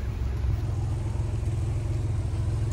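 A steady, deep engine rumble from a Lexus LFA sports car idling or cruising, loud and constant throughout with no talking.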